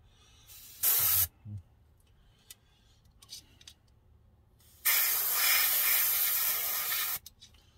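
Testors enamel is sprayed onto a scale model car body in two short bursts of close, sharp hissing spray: a brief one early on and a longer, sustained blast later, separated by quiet pauses.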